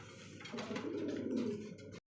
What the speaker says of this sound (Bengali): দেখতে পাচ্ছি চমৎকার আরও একজোড়া গ্রিবাস কবুতর